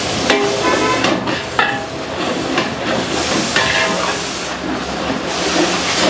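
Green chili paste hits hot oil while hotel-style country chicken biryani is being made, sending up a loud, continuous, close hiss of frying that barely wavers.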